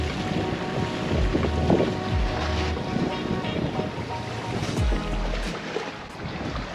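Wind rushes steadily past a sailboat under sail for the first time in months, with a constant broadband roar and low buffeting, water sloshing against the hull and occasional creaks, no talking.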